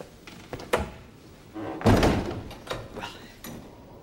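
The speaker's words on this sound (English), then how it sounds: "Close the door, you idiot." A door thuds shut in a royal chamber, a solid heavy thunk amid shuffling movement and softer knocks before and after.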